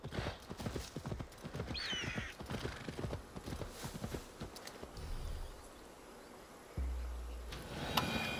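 Horse hooves clip-clopping steadily at a walking pace in the video game Assassin's Creed Valhalla, fairly close and continuous, with soft ambient buzzing in the background and a low rumble toward the end.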